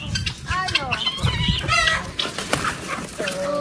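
Chickens clucking and squawking close by, a busy flock with overlapping calls and a brief higher cry near the end.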